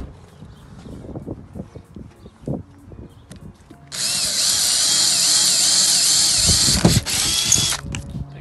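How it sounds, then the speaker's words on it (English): A power drill whines steadily as it bores through a Honda Civic's metal body panel, a high, loud grinding that runs for several seconds after some handling clatter. "make sure when you drill this side"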